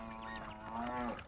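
A buffalo stands with a man in a rural Tamil village setting and gives a single long, low moo that rises slightly and holds, clear and fairly close, with no talk over it.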